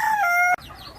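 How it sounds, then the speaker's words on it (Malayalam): A single chicken gives a loud, close, drawn-out cluck that cuts off abruptly, followed by faint background clucking. "ഈ കാണുന്ന കോഴികളൊക്കെ നല്ല കോഴികളാണ്"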